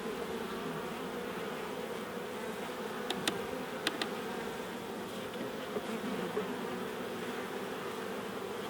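A wild honey bee colony cut out into a hive buzzes in a constant, even hum, close and soft, with a couple of faint clicks partway through.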